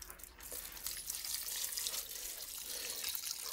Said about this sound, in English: Now, we'll just pour this in there.